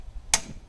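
A camping stove clicks on with one sharp, brief snap, close and isolated against a quiet background.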